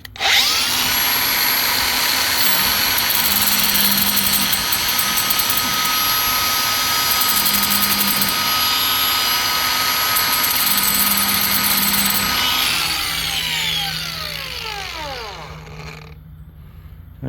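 A continuous loud mechanical whine of a power grinder sharpening a dull Wood-Mizer LX150 sawmill blade, steady for about twelve seconds, then winding down with a falling tone.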